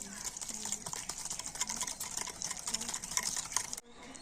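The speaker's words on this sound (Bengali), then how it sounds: "আর এবার একটা ব্লেন্ডার দিয়ে খুব ভালো করে এইভাবে ফেটিয়ে নেব" An electric hand blender whisks a semolina and milk mixture in a bowl, a fast buzzing whir with rapid rattling pulses that runs steadily, then cuts off abruptly near the end.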